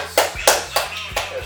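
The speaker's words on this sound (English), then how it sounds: "Golf clap." Four soft, spaced hand claps in a slow, polite golf-clap rhythm, close and fairly quiet, with no talking.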